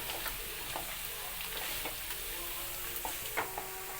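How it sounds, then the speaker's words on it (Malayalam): Dried meat fries in a pan with a steady bright sizzle, broken by irregular clicks and scrapes as it is stirred, close and continuous without talk. "നമ്മൾ ഉണക്കിയെടുത്ത ഇറച്ചിയാണ് ഇറച്ചി വറുത്തെടുക്കുന്നത്"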